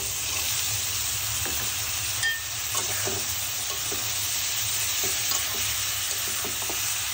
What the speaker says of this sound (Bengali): তেলের উপরে ভেজে নিব, কোনো পানি ইউজ করব না